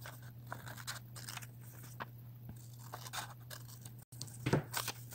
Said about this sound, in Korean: 그리고 이 선을 따라 가위로 잘라줍니다.